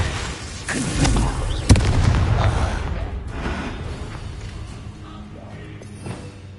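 In a Hogwarts wizarding video game, a Confringo blasting spell goes off with a loud booming explosion and a sharp crack, followed by a rumbling tail that fades over several seconds.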